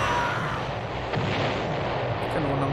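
Cannons fire from a galleon in a pirate video game, a dense roaring wash of booms and rumbling blasts, loud and continuous with battle noise layered in.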